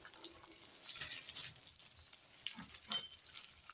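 Raisins frying in ghee over low heat for nutritious laddoos, a soft, steady sizzle with light popping and crackle, quiet and close, with no talking.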